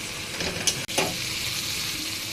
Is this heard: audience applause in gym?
no